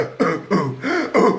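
A person vocally imitates coughing and choking, four harsh, rasping bursts in quick succession, close and fairly loud.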